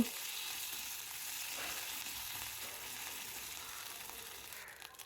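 Garlic and ginger paste fries in mustard oil with a faint, steady sizzle and hiss heard at a distance, continuous and alone.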